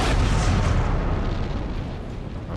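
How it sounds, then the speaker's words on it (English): Cannon fire rumbles across a battlefield in the video game Empire: Total War, a dense, loud, continuous roar of booms blending together with no gaps. "At least the cannons sound absolutely freaking awesome."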